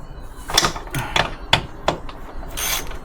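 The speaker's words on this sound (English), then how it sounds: "So we've got a 13mm socket now to remove this gearbox." Ratcheting clicks from a 13mm socket wrench loosening a gearbox bracket bolt on a VW Polo 6N2, several short bursts of metallic clicking in an uneven rhythm, close and fairly loud.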